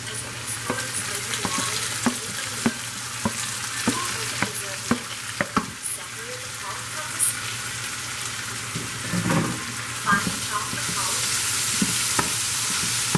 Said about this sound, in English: I'll just saute that for about 1 minute